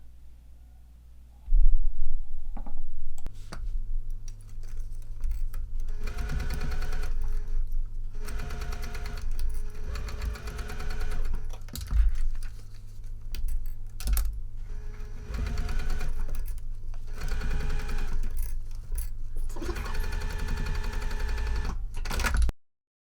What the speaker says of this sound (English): Now I'm ready to sew all the way around.